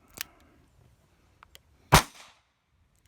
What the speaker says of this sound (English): See if you can tell me which round is which when you shoot it.